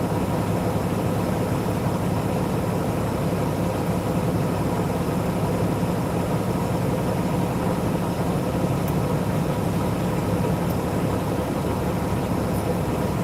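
A big Cummins diesel truck engine idles with a deep, steady rumble and rattle, loud and close, running continuously with no talking.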